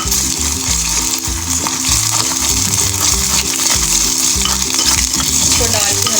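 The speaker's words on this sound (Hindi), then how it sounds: "इसको डाल के हल्का सा फ्राई करेंगे" Ginger garlic paste sizzling with golden fried onions in a handi for brain masala, a steady loud fry with stirring scrapes throughout, set under a constant bed of background music.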